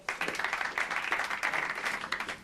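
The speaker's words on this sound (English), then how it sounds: "Give them a big round of applause." Enthusiastic applause from an audience, dense rapid clapping sustained throughout at a moderate distance, with no talking.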